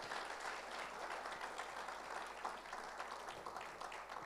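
Congregation applauding together at a church service, a steady dense wash of many hands clapping that holds evenly from start to finish with no voices over it.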